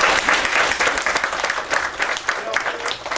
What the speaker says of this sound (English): I want to give you a big round of applause for actually doing this